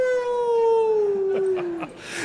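A single long, drawn-out howl like a dog or wolf, loud and close, its pitch sliding slowly downward and ending in a few short yips, with no voices over it.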